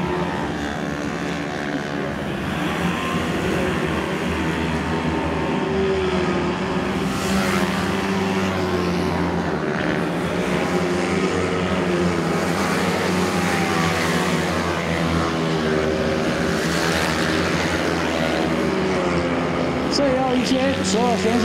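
125cc racing karts scream around a circuit during a race final, their high buzzing engines rising and falling as they pass. A commentator talks continuously over the noise.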